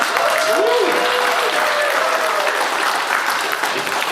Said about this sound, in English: please a round of applause for the MP for Takaanini